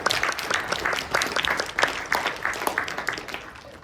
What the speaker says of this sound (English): Great job, round of applause.